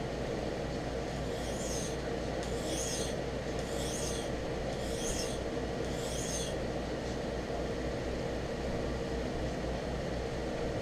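A knife blade drawn across a sharpening stone in five steady, evenly spaced rasping strokes, quiet and close, over a low background hum.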